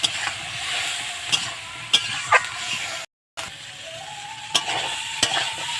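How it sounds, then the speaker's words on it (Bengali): Spice masala stir-fried in a pan with a little water for fish curry, giving a continuous bright sizzle with sharp scraping stirs at intervals and a brief gap of silence partway through. The sound is close, and no one speaks. "এবার আমি ভালো করে কষিয়ে নেব"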